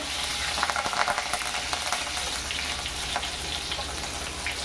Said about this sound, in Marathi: तेल गरम झालंय जिरा टाकते जिरा टाकून झालाय मिरची टाकते